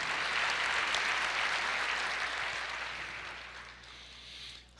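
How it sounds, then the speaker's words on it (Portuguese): A church congregation claps together in a dense wash of applause that holds steady, then gradually fades out toward the end. "Aplauda o Senhor"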